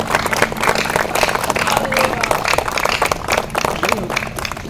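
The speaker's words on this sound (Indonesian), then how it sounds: "Berikan sorak-sorai bagi Tuhan yang meriah." A church congregation at a lively worship service cheers and claps steadily, a dense, loud crowd sound lasting throughout with voices mixed into the applause.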